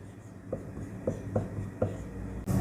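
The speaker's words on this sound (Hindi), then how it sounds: "मैं आपको इसको दिखाने के लिए 7 का टेबल लिखता हूं।" Pen or chalk writing out the multiplication table of 7, with a handful of short, distinct strokes and taps at irregular intervals against a quiet room hum.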